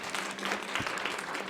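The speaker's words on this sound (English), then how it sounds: "Let's give Carolina one more round of applause." An audience at a science seminar claps steadily throughout, a dense continuous round of applause in a room, fairly close and even in level.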